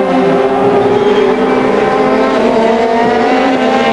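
Touring race cars, Seat and Alfa Romeo front-wheel-drive machines, race at Silverstone, giving a loud continuous engine roar that holds a steady pitch with slight rises as a bunched group passes.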